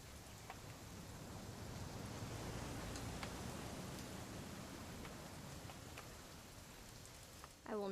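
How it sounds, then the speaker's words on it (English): Steady rain falls in the video game What Remains of Edith Finch, a dense, even hiss of drops on surfaces with scattered patters, holding level throughout before a brief louder burst at the end. "It's gonna rain the whole weekend, isn't it?"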